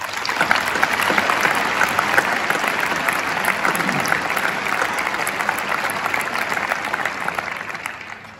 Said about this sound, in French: Je crois que nous pouvons applaudir les équipes de l'Arena Futuroscope.